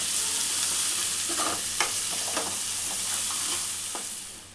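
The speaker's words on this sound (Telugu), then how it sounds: "కారం ఈ పేస్ట్ మొత్తం మంచిగా ఆయిల్ పైకి తేలేంత వరకు ఇలా మంచిగా వేయించుకోవాలి" Chili paste fries in oil in a pan, giving a steady, loud, close sizzle broken by a few scraping stirs of a spoon, with no voices.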